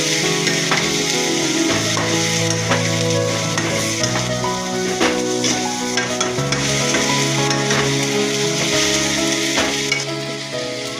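Stuffed masala brinjal fries in a pan with a loud, dense, constant sizzle and crackle, mixed with sustained tonal sounds that are likely background music.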